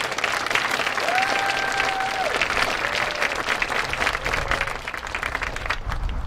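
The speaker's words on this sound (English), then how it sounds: "So let's give a round of applause to those gentlemen." Sustained applause fills a school commencement ceremony for the class of 2021, dense clapping from a large crowd holding steady throughout, with a faint voice briefly audible beneath it.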